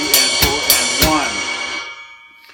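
A drum set plays a few quick strikes with bright cymbal wash, with the left hand on the off-beats and the left foot on quarter notes, then the shimmering ring fades out.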